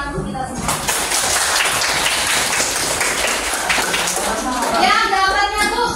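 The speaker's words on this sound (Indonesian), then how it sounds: "tepuk tangan untuk kita semua" Classroom applause during a teacher's coaching session, a dense sustained patter of many hands clapping throughout, steady and fairly loud with faint children's voices mixed in.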